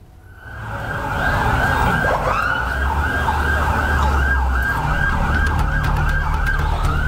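Ambulance sirens from a convoy of 23 ambulances carrying crash victims from Probolinggo to a hospital in Jember, Indonesia. Loud, continuous wailing sweeps repeat over the rumble of road traffic.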